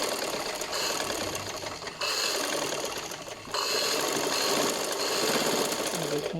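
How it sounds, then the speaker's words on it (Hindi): A sewing machine stitching tissue fabric for a dress, running in fast continuous bursts with two brief pauses, loud and close with no voice over it. "ये मैंने बाहर की सिलाई लगा ली है"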